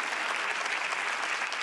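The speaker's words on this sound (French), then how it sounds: "On les applaudit bien fort." Audience applause from a live gathering of marchers, a steady dense wash of clapping that stays even and fairly faint throughout, with no voices over it.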